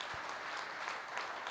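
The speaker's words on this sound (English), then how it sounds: "want to give another round of applause for Neil, who took this on." An audience at a radio technology conference claps in a steady, dense patter of applause, faint and distant, lasting the whole short stretch without voices.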